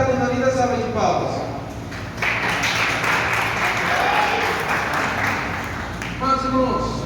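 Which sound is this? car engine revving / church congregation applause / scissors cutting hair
church congregation applause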